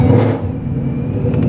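A Ford Mustang engine runs close by with a loud, steady low rumble and slight throb, no voices over it.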